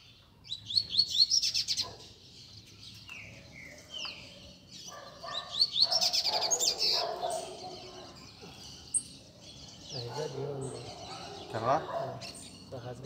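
Coleiro songbirds (seedeaters) chirp and trill in quick repeated bursts, fairly close, while people talk over them.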